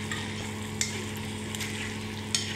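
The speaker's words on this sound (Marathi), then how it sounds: "भाजी छानपैकी ढवळून घ्यायची आहे." A spoon stirs a pumpkin vegetable dish seasoned with salt, chili and goda masala in a pan, giving soft scrapes and a couple of light clinks over a steady gentle sizzle.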